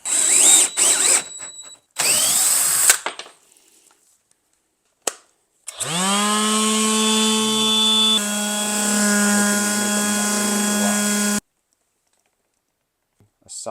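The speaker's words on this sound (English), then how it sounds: "I think I might break the drill before I break the battery." A DeWalt 20-volt cordless drill, running on a replacement battery, whirs up in a rising high-pitched motor whine that holds steady for several seconds, shifts pitch once, then cuts off, with clicks and handling noises around it.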